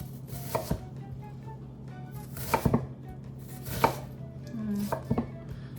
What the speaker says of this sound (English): then I take the root and hold it here, and then I slice it